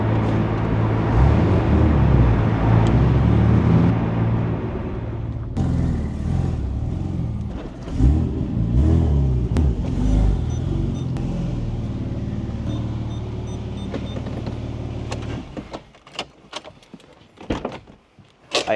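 A rebuilt Porsche 997 Turbo, restored from a totaled car, drives with a loud, steady low engine and road drone. The drone eases and fades toward the end, leaving a few sharp clicks and knocks. No voices.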